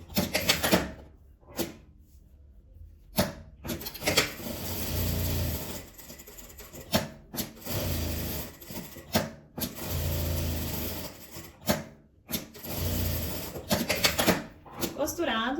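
Sewing machine stitching fabric butterflies in repeated short bursts of fast mechanical whirring, separated by brief pauses, with speech heard in the room.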